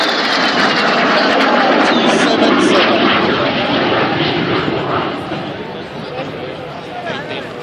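A de Havilland Vampire jet passes at an air show, a loud broad roar that swells, holds, then fades away, with a commentator talking over it.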